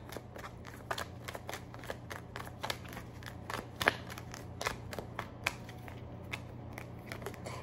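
A deck of oracle cards is shuffled close by in quick, steady riffling flicks, a crisp papery patter running the whole time over a faint background hum.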